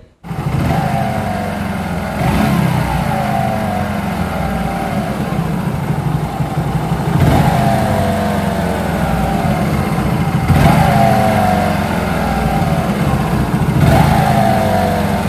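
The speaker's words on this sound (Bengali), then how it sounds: "ইঞ্জিন থেকে একটা ঘসমাস সাউন্ড আসতেছে" Motorcycle engine running steadily after a clutch plate change, a loud close idle with a gritty grinding undertone and a faint rising whine that recurs roughly every few seconds, no voices over it.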